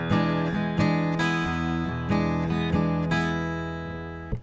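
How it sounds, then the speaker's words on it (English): Acoustic blues guitar playing a loping shuffle rhythm, uneven long-short strums repeating steadily over several seconds, close and clear, with the last chord left ringing. "The shuffle again."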